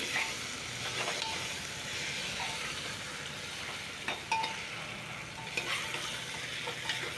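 Masala with tomatoes, salt and green chillies fries in a pan with a steady close sizzle, broken by occasional clinks and scrapes of a stirring utensil.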